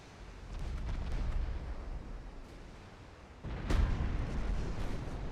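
Battleship gunfire and shell hits in the naval game Ultimate Admiral Dreadnoughts: a low rumbling boom swells and fades, then a sharper, louder blast lands near the end over continuing deep rumble.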